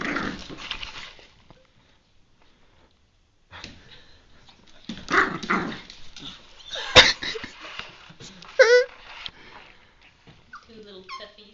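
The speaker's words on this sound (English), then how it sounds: "Two little puppies." Two small puppies yelp and whimper in short, uneven bursts, close to the microphone, with a couple of sharper high cries near the middle and quiet gaps in between.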